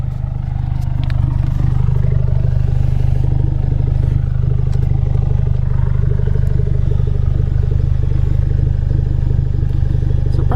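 A Ford Focus RS with its muffler deleted rumbles loudly and steadily at close range, a deep continuous exhaust drone with a faint mechanical clatter and no clear rev spikes.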